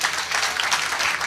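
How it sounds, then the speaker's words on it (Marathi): Brief, dense clapping bursts out from an audience at a kirtan gathering, fairly close and steady for about a second. "वा वा टाळी वाजव त्याच्याशी"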